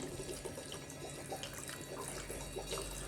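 Water poured from a tap or jug while preparing street-style masala sundal at home, a steady close splashing and trickling flow running unbroken and alone throughout.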